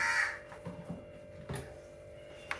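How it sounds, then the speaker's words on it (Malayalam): A crow caws a few times in the distance, faint and scattered over a quiet background. "ഞാൻ കുക്ക് ചെയ്യാനായിട്ട് വരുന്ന സമയത്ത് നമ്മുടെ കാക്ക വിരുന്ന് വിളിക്കും കേട്ടോ"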